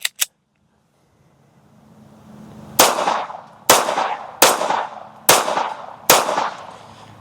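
A ported full-size pistol fires five sharp shots outdoors, spaced roughly evenly under a second apart, each loud crack trailing off in a short echo, with a couple of faint clicks before them.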